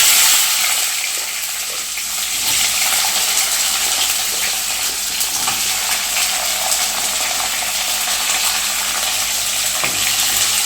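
Small shallots dropped into hot oil with popped mustard seeds for a Tamil vatha kulambu, a steady bright sizzle and spatter that holds evenly for about ten seconds with no talking.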